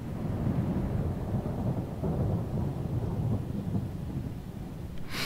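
Thunder from lightning in Microsoft Flight Simulator, a continuous low rumbling roll with a rain-like wash, steady and moderately loud throughout with no talking.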